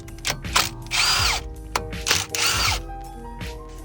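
A power drill backs out Phillips head rotor screws on a 2016 Kia Soul, with loud close bursts of whirring drive separated by short clicks and pauses.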